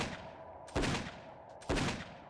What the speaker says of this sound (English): Screams, followed by over 3 dozen gunshots.